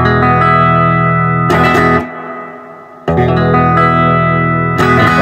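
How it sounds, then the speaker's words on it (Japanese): Sustained electric guitar chords through a VOX AC30C2X amp with its spring reverb at full, drenched in heavy reverb, with a long washy tail ringing out between strums. "そしてリバーブを全開"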